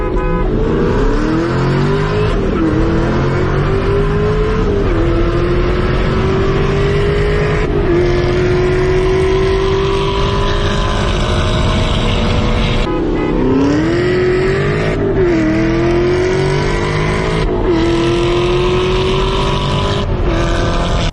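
A Camaro ZL1 engine roars loudly through repeated acceleration runs on a drive, the pitch climbing steadily then dropping at each gear shift, close and continuous.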